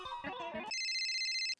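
A telephone rings in an indoor domestic scene, a steady electronic ringtone that cuts in sharply after a brief stretch of voices and holds loud and even before stopping abruptly.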